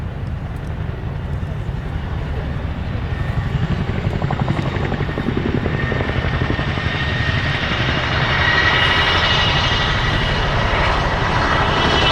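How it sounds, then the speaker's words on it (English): A military aircraft with two Honeywell engines repositions at the Farnborough airshow, its loud, steady engine roar and rotor-like drone continuing unbroken and close. "As the aircraft repositions once more"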